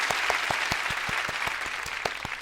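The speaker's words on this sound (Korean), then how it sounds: "우선 박수 한번 치고 시작하도록 하겠습니다." A studio audience claps at the opening of a Korean comedy news show, with steady, dense applause and a few sharper hand claps heard close and evenly throughout.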